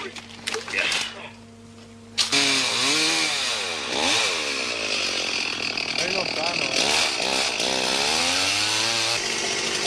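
A loud chainsaw drones and revs steadily while cutting wood in the Sulawesi jungle, someone talking over it, with a short quieter gap near the start.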